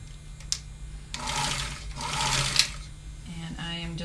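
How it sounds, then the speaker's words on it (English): A regular home sewing machine runs a zigzag stitch along the open edge of a bag handle in two or three short bursts of whirring motor hum, close by, with a low steady background drone. "I'm going to use a regular sewing machine."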